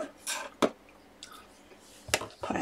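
Scissors snip purple crushed velvet in a few sharp, close cuts separated by pauses, with faint fabric rustling between them.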